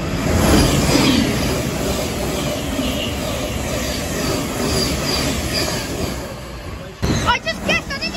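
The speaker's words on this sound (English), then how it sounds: "It's a slow train." A slow train rolls past on the East Coast Main Line at Hatfield, a loud sustained rumble with clattering wheels and squeals close by, ending in sharp clicks, while people chatter excitedly over it.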